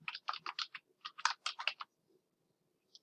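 Typing on a computer keyboard, a close, quiet run of quick key clicks in two short bursts, then one last isolated tap.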